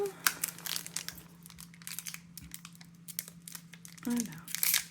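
Crinkling and tearing of a Pokémon card booster pack wrapper being opened, with scattered crisp rustles and a louder crumple near the end, set against a steady low hum.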